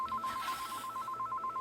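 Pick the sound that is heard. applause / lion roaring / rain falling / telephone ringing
telephone ringing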